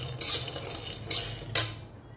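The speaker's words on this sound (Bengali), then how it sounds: "বাদামটাকে আমি ভালো করে ভেজে নেব" About 150 grams of peanuts dry-roasting in a pan while a utensil scrapes and clinks against the metal in three distinct strokes over a low background hum, close and moderate in volume, with no talking.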